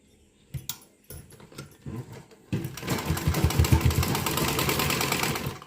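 An electric sewing machine stitching a dhoti salwar starts with a few short stop-start bursts, then runs in a steady, loud, close rhythmic whir with a fast regular needle chatter.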